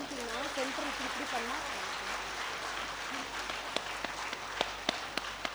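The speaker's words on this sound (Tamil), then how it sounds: "அதனால நல்ல ஒரு பெரிய கைத்தட்டல் கொடுக்கலாமா?" Audience clapping at a music show, broad and moderate, running under a voice with sung or drawn-out tones early on, then thinning out as a few sharper, louder individual claps stand out near the end.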